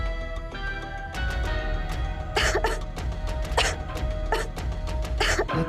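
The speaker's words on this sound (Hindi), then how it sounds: "तुम्हें तो खांसी हो गई" Several short, sharp coughs burst out in irregular succession over a low background hum and faint tonal music.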